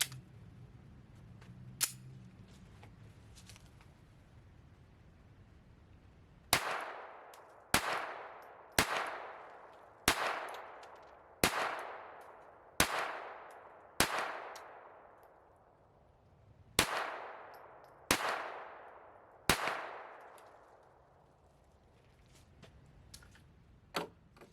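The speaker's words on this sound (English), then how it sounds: "run another magazine through it" A Ruger SR22 .22 pistol fires about ten sharp, evenly spaced shots in a row, each crack followed by a short ringing decay outdoors, after a quieter earlier click and a single faint pop.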